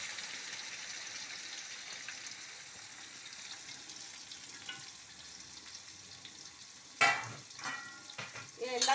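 Green chillies and onions frying in a pan for a mocchai dish, a soft steady sizzle that flares into a loud crackling burst as more goes in, then keeps hissing.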